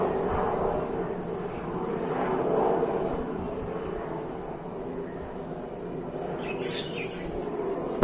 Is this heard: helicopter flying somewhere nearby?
yes